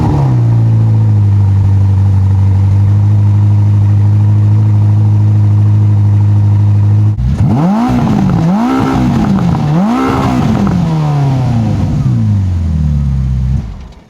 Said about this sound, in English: Let me turn on the car and rev it.